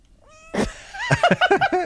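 A deaf white cat gives a rising meow, then a quick run of several short, close, loud meows and chirping cries, with no talking.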